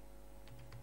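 A few soft, quick keystrokes on a computer keyboard, faint and close, in a brief burst over a steady low hum.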